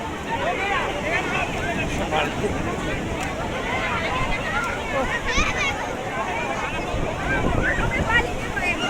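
Sea waves at Puri beach roll in continuously as the tide rises, a dense, steady wash of surf and wind close by, with people talking over it.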